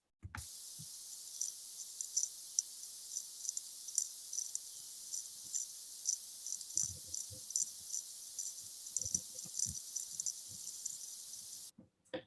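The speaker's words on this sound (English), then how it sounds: "the cherrystone water beetle, which sounds like this." A cherrystone water beetle, recorded underwater in a field tank, gives a faint, rapid, high-pitched ticking stridulation that runs steadily for about eleven seconds, with a few soft low knocks under it.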